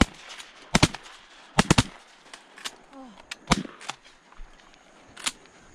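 Shotgun blasts at teal during an early-season duck hunt in hot Florida, several sharp close reports in quick pairs and singles, with people talking between shots.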